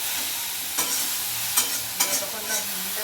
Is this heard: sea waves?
no